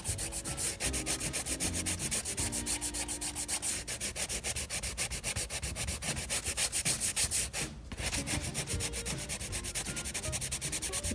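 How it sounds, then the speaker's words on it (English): Crayon rocks sketching on paper give a steady, continuous dry rubbing and scratching that runs throughout, close and moderately loud, with one brief pause near the end. "wanted you to hear and see in real time, well, semi-real time, obviously this is recorded, but semi-real time, the crayon rocks in real life."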